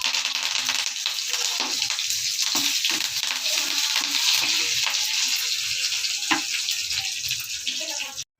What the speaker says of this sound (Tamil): தாளிப்புக்காக கொஞ்சோண்டு எண்ணெய், அதில் கடுகு போட்டு சட்னி தாளிக்கிறதுக்கு.